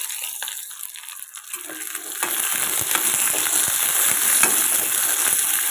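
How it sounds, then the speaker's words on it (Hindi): Onion and green chilli frying in a pan for an Odia tiffin. After a quiet start, a steady sizzle with crackling bursts up close takes over partway through, with no one talking. "प्याज कंचा लंका पकई दउचे।"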